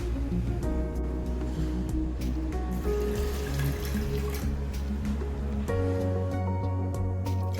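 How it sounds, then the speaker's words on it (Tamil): Water is poured into washed moong dal in a cooking pot, a steady, close splashing fill with trickling, heard alone over a background of faint tonal hum. "1/2 கப் தண்ணி விட்டுருணுங்க"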